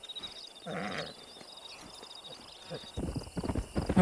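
A stallion's hooves clip-clop in the video game Red Dead Redemption, quick uneven hoofbeats growing louder toward the end, with spoken dialogue heard earlier.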